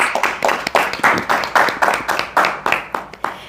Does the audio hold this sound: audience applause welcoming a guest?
yes